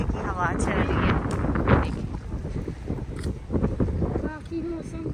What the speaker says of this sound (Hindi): बहुत मज़े की हवा चल रही है।